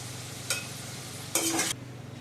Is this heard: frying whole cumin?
yes